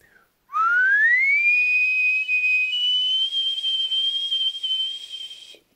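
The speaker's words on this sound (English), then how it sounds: "I can whistle inward and outward" A single long, close whistle made by breathing inward rises quickly in pitch and then holds a steady, slightly wavering tone for several seconds before stopping.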